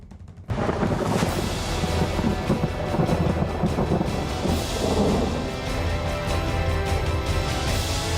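Heavy monsoon rain pours down in Mumbai with a rolling thunder rumble, a dense steady roar that starts suddenly and keeps going at full strength with no voices.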